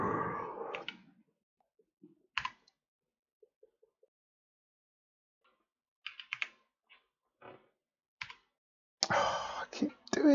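Sparse clicks of typing on a computer keyboard during hardware design work, with short bursts of keystrokes separated by pauses, fairly close and moderately quiet, with brief talk at the start and near the end.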